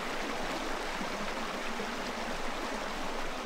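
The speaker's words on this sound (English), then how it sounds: "the roar of the creek in the winter" Steady broadband rush of Redwood Creek running high in winter through a redwood forest, a continuous close roar of flowing water with no breaks.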